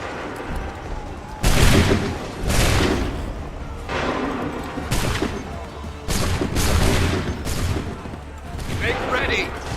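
Musket volleys in Assassin's Creed 3 roll out as several booming bursts of massed gunfire, spaced a second or two apart, loud and close, with shouting voices among them.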